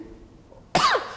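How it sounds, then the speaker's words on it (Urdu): A single dry cough bursts out sharply after a near-silent pause, close and fairly loud, with no talk around it. "خشک کھانسی ہوگی"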